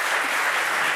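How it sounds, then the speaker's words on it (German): Audience applause for a guest at a comedy gala, a dense steady wash of clapping that fills the whole moment with no talk over it. "Ein großer Applaus bitte für Peter Neururer."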